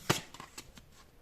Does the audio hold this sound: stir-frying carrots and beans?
no